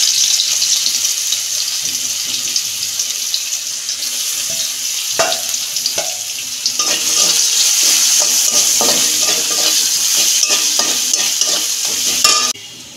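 Garlic sizzling in hot oil in a pan while mashed pumpkin bharta is made, a loud steady hiss broken by scrapes and clinks of stirring, with louder bursts of frying near the end.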